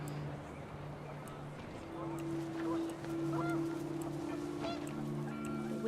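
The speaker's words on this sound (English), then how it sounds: "The wind picked up, and panicked geese appeared and quickly went." Panicked geese honking in the game What Remains of Edith Finch as the wind picks up, steady low tonal honks layered with fainter calls over a windy background, with narration running beneath.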